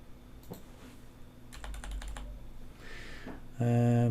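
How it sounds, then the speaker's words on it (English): Fingers tapping on a computer keyboard in scattered bursts of close, clicky keystrokes, with a low steady hum beneath and a louder tonal sound breaking in at the end. "oh, I hate this keyboard"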